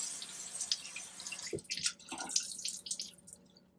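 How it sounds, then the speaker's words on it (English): Water from a sink tap runs and drips as a washcloth is wetted at a bathroom sink, a soft steady splashing with brief louder splatters midway, close and fairly quiet with no talking. "Then I'm just going to take a washcloth and wet it a little bit."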